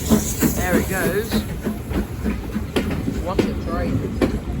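Steam locomotive 92214 hauls the Elizabethan's chocolate-and-cream carriages past on a heritage railway, a loud steady rumble and hiss with rhythmic clickety-clack of wheels over rail joints close by.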